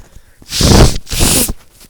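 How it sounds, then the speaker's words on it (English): Two forceful, close nose blows in quick succession, loud and breathy, with brief quiet before and after. "Sorry about me blowing my nose in the mic."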